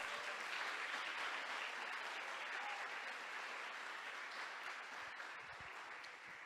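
Sustained applause fills a church, dense even clapping from a congregation at moderate loudness that slowly tapers toward the end, with no voices standing out.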